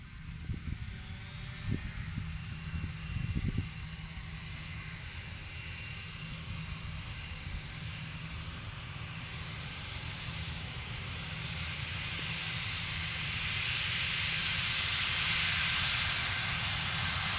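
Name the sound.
Airbus airliner taxiing at Inverness Airport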